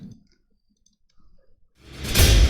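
A mouse click presses the Battle button in the Splinterlands card game: a small click early on, near silence, then a louder burst of sound at the end.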